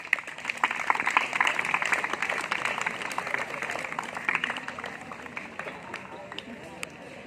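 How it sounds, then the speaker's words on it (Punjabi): Applause from the audience at a school Independence Day function in Moga district, a steady crowd clapping that swells and then slowly thins out, with some voices mixed in. "ਉਹਨਾਂ ਦੇ ਲਈ ਇੱਕ ਵਾਰ ਜ਼ੋਰਦਾਰ ਤਾੜੀਆਂ ਨਾਲ"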